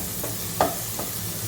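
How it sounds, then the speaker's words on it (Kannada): A spoon scrapes and stirs soaked poha mixture for puliyogare in a pan, three short stirring strokes over a faint background sizzle, close and fairly quiet. "ಈಗ ನಾನೆಲ್ಲ ಮಿಕ್ಸ್ ಮಾಡ್ಕೋತಾ ಇದ್ದೀನಿ."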